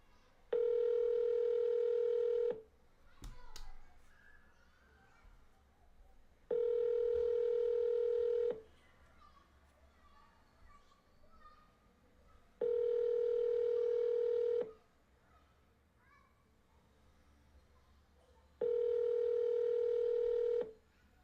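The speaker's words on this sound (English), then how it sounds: "We'll call this guy." Telephone dialing a call: four long, steady electronic tones come at regular intervals, each about two seconds, separated by quiet gaps holding faint background noise.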